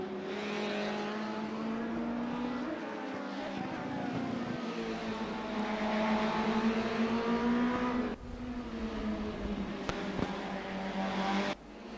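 Simulated 1992 DTM touring cars, BMW against Mercedes, race down a straight at Mid-Ohio in a racing video game, their engines droning loud and continuous with rising pitch sweeps and brief gear-change dips.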